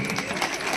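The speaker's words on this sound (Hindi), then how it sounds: "तालियां बजाइए" A brief burst of dense clapping from an audience of schoolgirls and guests at an award ceremony at a girls' school, steady and fairly close, with crowd murmur underneath.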